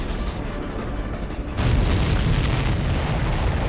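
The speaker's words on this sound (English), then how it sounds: "Everybody, keep a safe distance to avoid getting caught in the explosion." A large explosion in the Ace Combat 7 flight game, heard from an F-14 cockpit: a loud broadband blast that erupts abruptly and then holds as a dense, continuous roar with no speech.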